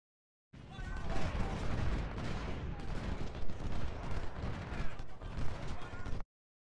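Rolling artillery fire and musket volleys from the Civil War strategy game Ultimate General at the Battle of Seven Pines, a continuous dense rumble of overlapping booms and crackles lasting several seconds.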